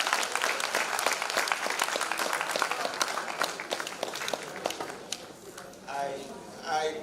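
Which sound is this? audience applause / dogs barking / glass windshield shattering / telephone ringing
audience applause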